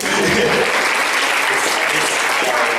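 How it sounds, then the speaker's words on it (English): Sustained, dense applause from an audience at a school district leadership meeting, loud and even throughout, with faint voices mixed in. "Yes, we can clap for that."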